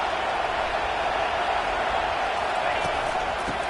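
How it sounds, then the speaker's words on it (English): A football stadium crowd keeps up a steady, loud, broad roar of cheering and noise throughout, a dense continuous wash of voices from many people that never lets up. "It is getting loud as this crowd tries to help its defense."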